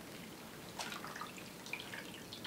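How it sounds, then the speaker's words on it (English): Water dripping off a plaster bandage just dipped in water: a few faint, soft patters over a steady low hiss, quiet and close, with no voices. "we just give it a quick dip in the water"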